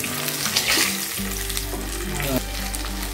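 Brinjal slices fry on a hot tawa just after being flipped, giving a steady, loud close-up sizzle with a few small clinks and scrapes. No one speaks.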